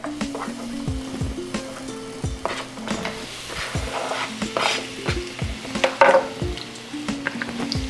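Onions frying in olive oil in a skillet for a roasted red pepper sausage bolognese: a steady close sizzle with frequent knocking and scraping strokes of a utensil tossing them.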